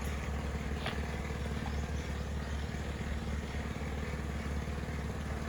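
A steady rumbling engine drones continuously from nearby road traffic, with a faint bird chirp briefly rising above the noise.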